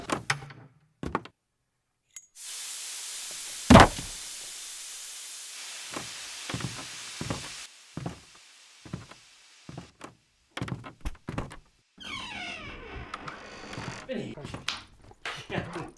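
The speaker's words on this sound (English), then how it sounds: "Now I want the noise of some floorboards, and then a door" Sound effects of creaking floorboards and a door opening and closing play in short separate bursts, with thuds and a long hiss between them; someone speaks intermittently between the effects.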